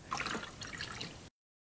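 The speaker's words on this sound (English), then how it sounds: "I'm just gonna start it up and let it pump the water into the block." A small water pump pushes water into the block of a four-cylinder nitro RC engine, a soft continuous trickling and dripping that stops abruptly, leaving silence.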